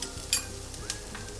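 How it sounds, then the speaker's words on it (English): Vegetables sautéing in a pan for a lasagna filling, with a soft steady sizzle broken by a few sharp scrapes and clinks of stirring, quiet and close, with no voices. "We add some salt as the vegetables are being sauteed"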